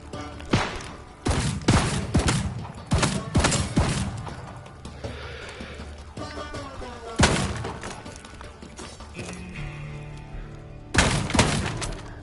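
Gunfire in The Foglands as barrels are shot, several loud sharp bursts with shattering crashes at irregular intervals between quieter stretches of game sound.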